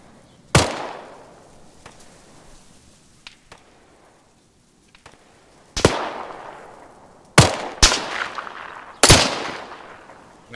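Sharp, loud gunshots in the video game Arma 3, single cracks spaced irregularly with ringing decays and quiet gaps between bursts.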